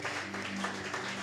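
A church congregation applauds and cheers for Jesus in a dense, steady wash of clapping across the whole moment, with a low sustained hum underneath.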